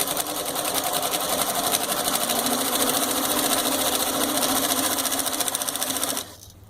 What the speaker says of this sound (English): Now with this servo motor, you can go slow or you can go fast.